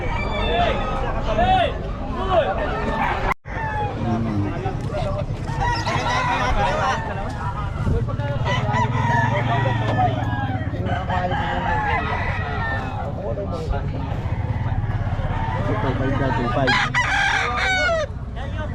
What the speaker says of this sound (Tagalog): Malaki manok natin